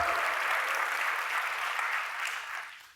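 Keynote tech event crowd claps in a steady burst of applause, fairly even and moderately loud, tapering slightly toward the end.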